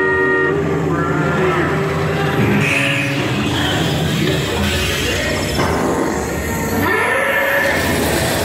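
A vehicle horn honks on the Radiator Springs Racers theme park ride amid loud ride noise, rumbling and clattering with voices talking throughout.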